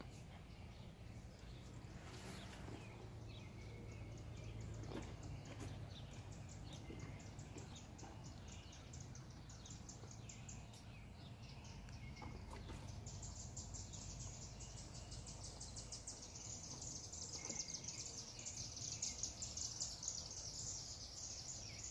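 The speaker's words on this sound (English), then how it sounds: "you hear all those birds? They're going nuts." Many birds chirping and trilling outdoors, a dense, busy chorus that grows louder and higher toward the end, with insects buzzing faintly underneath.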